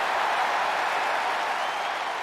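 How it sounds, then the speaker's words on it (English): A wrestling pay-per-view crowd roaring in a steady, loud wash of cheering and clapping, sustained without a break from start to end. "The crowd cheering for both these men, wanting both of them to win"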